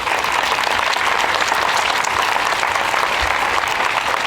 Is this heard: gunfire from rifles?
no